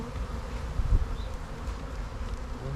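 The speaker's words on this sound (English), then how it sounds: "The smoker forces the bees to go back down onto the frames." Honeybees at an opened hive, driven down onto the frames by a smoker, make a dense, steady, close buzz over a low hum that continues throughout.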